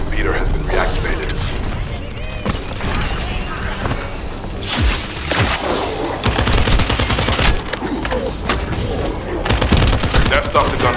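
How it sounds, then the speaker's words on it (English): Gunfire in The First Descendant on Xbox One: dense bursts of shots and mechanical clatter fill the mix continuously, loud and close, with sharp transient volleys spiking throughout amid game sound effects. "That stopped the gunfire."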